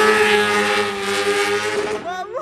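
A remapped Honda Hornet motorcycle roars past doing a wheelie, a loud, near engine drone that fades away as it passes, with people talking over it.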